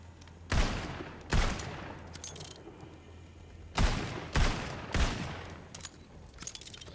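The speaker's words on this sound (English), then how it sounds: "Where are the shots coming from?" Gunfire in the video game Tiny Tina's Wonderlands, with five loud, sharp shots in irregular bursts, each trailing off in an echoing rumble over a low background hum.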